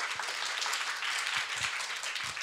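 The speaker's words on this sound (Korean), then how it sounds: "여러분 교수님 위해서 박수 한번 부탁드리겠습니다" An audience at an environmental panel forum applauds a professor with steady, dense clapping that fills the whole short stretch at an even level.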